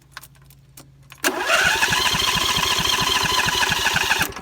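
A John Deere riding mower engine turns over and catches, then settles into a steady, rhythmic running chug close by, following some quiet handling noises.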